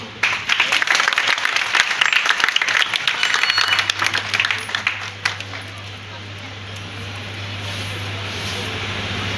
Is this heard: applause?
yes